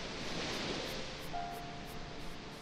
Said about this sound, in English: The water rushing sound, that's nice.